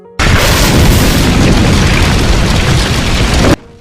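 Huge explosion that brings down a tower: a sudden, very loud roaring blast cuts in and rumbles on densely for over three seconds before stopping abruptly, with no voices over it.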